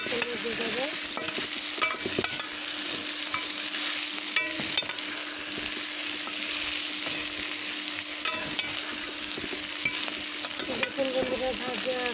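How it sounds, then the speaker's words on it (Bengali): Mixed vegetables with potatoes frying in a kadai, a steady loud sizzle broken by repeated scraping and clattering as a spatula stirs them, with no talking. "ভাজিয়ে এভাবে করে একটু পরপর নেড়ে দিতে হবে, নাহলে কড়াইয়ের তলাতে লেগে যাবে"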